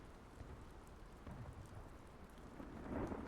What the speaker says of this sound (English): Oh, is it supposed to be raining?